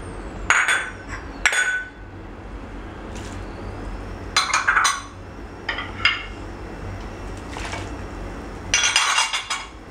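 Seafood tipped into a cooking pot for a seafood soup, giving several sharp metallic clanks and clinks of pieces and utensils hitting the pot, in short bursts separated by quieter gaps, with no talking.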